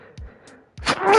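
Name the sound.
sneeze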